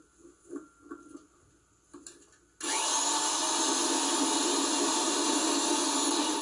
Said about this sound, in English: it's now time to drill a hole into the wall cavity. Use a 2½-inch deep cut hole saw for this job.